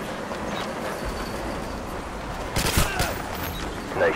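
Gunfire in the video game Modern Warfare, starting as a low rumble of scattered shots and ending in a sharp burst of loud cracks near the end.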